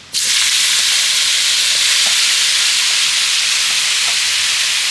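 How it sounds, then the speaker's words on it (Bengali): Mushrooms frying in hot mustard oil in a wok burst into a loud, close, steady sizzle that starts suddenly and keeps hissing with no break and no voices. "এবার ওই তেলের মধ্যে আমি দিয়ে দেব ছাতুগুলোকে"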